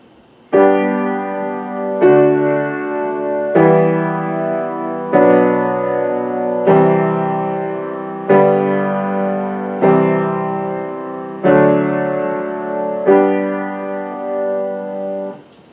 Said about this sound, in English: let's listen to the chord progression that I have right here